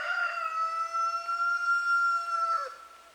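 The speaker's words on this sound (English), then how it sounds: "Well, hello, Mr. Rooster speaking his mind." A rooster crows once in a long, drawn-out call, clear and fairly close, trailing off at the end with quiet surroundings.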